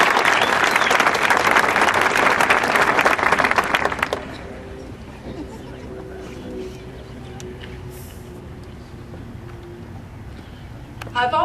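An audience at a graduation ceremony applauds to welcome a senior giving her address, loud sustained clapping for about four seconds that then stops, followed by quieter room noise and a voice starting to speak.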